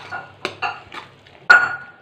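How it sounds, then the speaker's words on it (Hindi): A spoon stirs salt into a potato and parwal (pointed gourd) curry in a pan, giving a few scraping clinks against the metal with short pauses between strokes, close up and with no talk. "इसको एक बार मिक्स कर दूंगी।"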